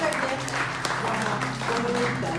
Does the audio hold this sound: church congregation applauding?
yes